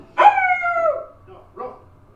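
A person imitating a dog bark with their voice, one drawn-out, falling howl-like woof followed by a shorter, softer second woof, close and clear in a quiet room.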